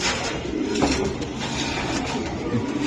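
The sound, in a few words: racing pigeons cooing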